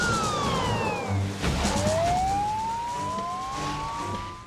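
Police car sirens wailing in a film scene, rising and falling tones sweeping past over rumbling traffic, loud and close without talk.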